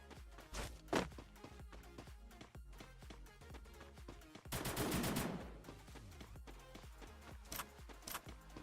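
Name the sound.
gunfire from the video game Free Fire MAX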